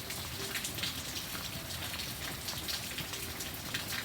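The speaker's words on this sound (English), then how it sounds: "look at all that rain." Steady rain falling over a front-yard food garden, a dense even patter of drops on surfaces with no voices, continuous throughout.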